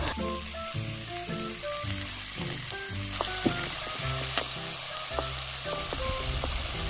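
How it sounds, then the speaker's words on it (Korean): Meat grilling and frying on a large tabletop multicooker, a steady close sizzle with short clinking and stirring touches scattered through, no talk. "이번에는 고기를 굽고 볶음밥을 만들어 보려고 하는데요"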